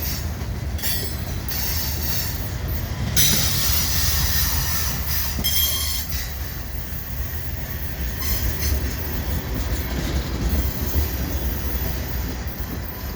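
CN SD70M-2 locomotives haul a transfer train past Argenson Park, with a constant loud rumble of rolling railcars, rhythmic wheel clatter and high metallic wheel squeals cutting through.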